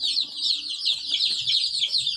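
Kuroiler chickens kept in a small room on a poultry farm cluck and chatter continuously, several birds close by making rapid overlapping high calls with no talking.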